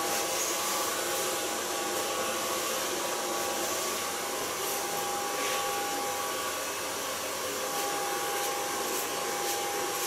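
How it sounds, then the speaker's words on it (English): A hair dryer blows steadily on long hair throughout, a continuous close whooshing roar with a faint motor whine and no talking. "So far, blow drying."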